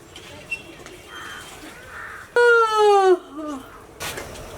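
A parrot sings a single clear, whistled note that slides slightly downward and lasts under a second, rising loud above a quiet background murmur.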